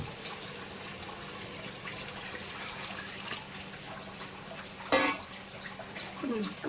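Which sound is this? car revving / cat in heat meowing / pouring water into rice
pouring water into rice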